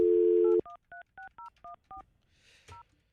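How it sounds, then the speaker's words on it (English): A phone dialing a cell number: a steady dial tone cuts off, then seven crisp touch-tone key beeps follow in an even rhythm, ending in a short burst of noise and one last tone. "All right, calling the cell phone now."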